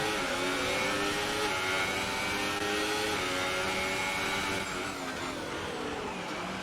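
An F1 car engine in a racing video game held at a high, sustained scream of around 13,000 RPM, loud and continuous with a steady harmonic whine throughout.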